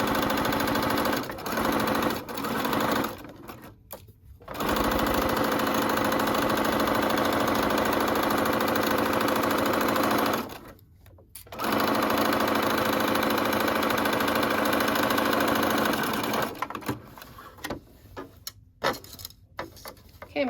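A sewing machine runs in long continuous bursts while stitching the hem of a McCall's 8358 wrap dress, steady and close, pausing briefly between runs and ending in short stop-start stitches.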